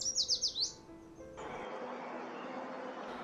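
Yellow warbler song: a quick run of five bright, high, sweet chirping notes, fairly loud and near, followed by a faint hiss of background noise.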